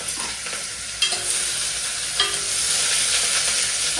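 Onion, green chilli and curry leaves frying in hot oil for a country chicken curry, a bright continuous sizzle with a few sharper crackles as the pan is stirred, close and alone.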